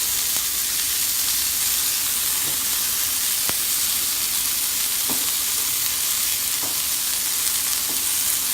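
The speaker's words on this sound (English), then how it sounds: "Make sure the pan is heated, and we're going to add our Brussels sprouts. Stir them around." Brussels sprouts fry in olive oil in a heated pan, giving a steady, even sizzle with a few soft clinks and scrapes as they are stirred.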